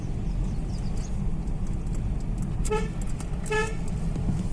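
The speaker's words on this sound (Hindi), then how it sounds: "केवल एक हमारे ही हॉर्न की आवाज़ आ रही है।" Two short car horn toots sound a moment apart over a constant engine rumble and road noise, fairly clear but not right up close.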